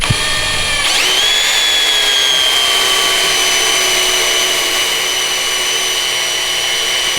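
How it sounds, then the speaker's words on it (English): A Sawzall reciprocating saw starts up and runs steadily, a loud, continuous high-pitched motor whine that holds constant after a brief spin-up. "Why don't we attach to the Sawzall?"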